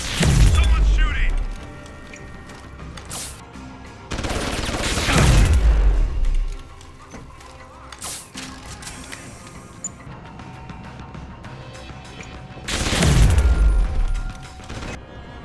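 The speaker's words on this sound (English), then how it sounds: "Someone's shooting!" Gunfire in the video game Deus Ex: Human Revolution comes as three separate loud booming bursts with sharp cracks and mechanical clatter, with quieter game ambience and mechanisms between them.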